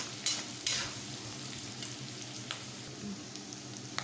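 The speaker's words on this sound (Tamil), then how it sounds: "கருவேப்பிலை போட்டுட்டு நல்லா ஃப்ரை பண்ணிகிட்டே இருக்கணும்" Curry leaves frying in hot oil for vada curry, giving a steady low sizzle with a few sharp spatters and scrapes of stirring, close by and with no talk.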